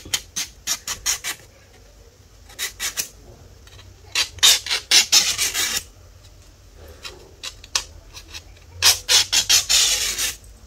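Back of a scissor blade rubbed firmly along paper while crafting a peacock advent calendar, giving repeated quick rasping strokes in three bursts, close and fairly loud, with no talking.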